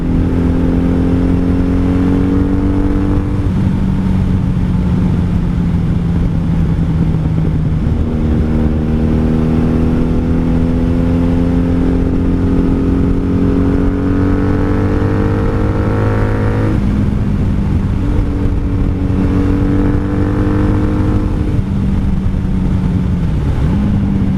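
A wrecked 1997 Honda Magna VF750C motorcycle engine on a highway, loud and close, droning steadily as it climbs through the gears with clear shift drops and a rising rev between them.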